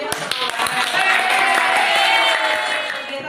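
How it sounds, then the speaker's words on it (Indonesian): Students in a classroom clap, starting with a few sharp separate claps that swell into a full burst of applause and then fade. Some voices can be heard faintly under it. "tolong berikan tepuk tangan yang meriah untuk"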